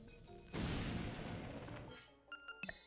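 A bomb blows up a rock in Zelda: Link's Awakening, a single soft booming blast that swells and fades over about a second and a half before a few short chiming game tones close it out.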